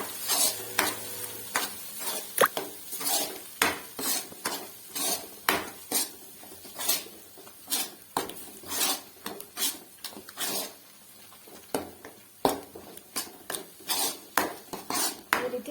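Masala spices fry in a pan for Mandya-style egg sambar, a soft sizzle with frequent sharp clinks and scrapes of a spoon stirring against the pan in an irregular rhythm, quiet and close, with no talking.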